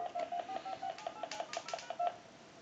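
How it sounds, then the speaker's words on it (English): A quick run of telephone redial tones from an old Stromberg Carlson wooden wall telephone, about a dozen short beeps in fast succession, clear and close. "Now I want to hit flash. That'll give us dial tone and redial."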